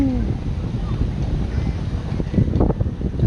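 Strong river wind off the Tonle Sap in Phnom Penh buffets the microphone as a loud, continuous low rumble. Faint voices sit under the noise.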